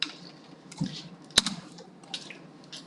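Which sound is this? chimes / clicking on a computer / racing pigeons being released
clicking on a computer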